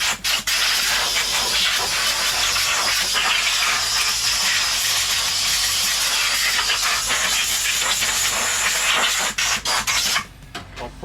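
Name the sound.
air compressor running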